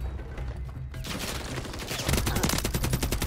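Rapid automatic gunfire rattles in the first-person shooter Call of Duty MWIII, a dense burst of shots that intensifies midway and continues to the end, moderately loud with no talking.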